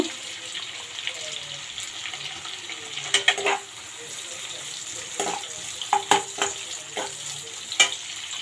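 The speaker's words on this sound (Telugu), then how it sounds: "ఇవన్నీ మనకి వెజిటేబుల్స్ అన్నీ హై ఫ్లేమ్ మీదే వేపుకోవాలి అలాగే ఇప్పుడు క్యాప్సికమ్ కూడా వేసేద్దాము" Vegetables and capsicum frying over a high flame for street-style chicken fried rice, a steady sizzle with scattered clinks and scrapes of a spatula against the pan.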